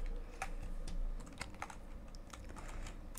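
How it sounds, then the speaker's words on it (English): Typing on a computer keyboard during a Five Nights at Dolly's style horror game, a close, irregular run of light key clicks over a quiet background hum. "Now, I must type."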